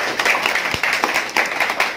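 Short burst of audience clapping in a mobile phone repair class, uneven claps close by over about two seconds.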